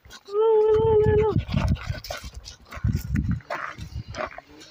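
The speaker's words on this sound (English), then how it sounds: "Yeah, that's Layla, the dog." A dog walking in the woods pants in quick, rhythmic huffs close by, after a brief high, drawn-out voiced call at the start.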